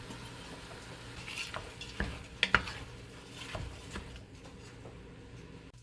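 Green pepper for spaghetti sauce fries and gets stirred in a pan, soft sizzling under scraping and clinks of a utensil against the pan, fairly quiet and close.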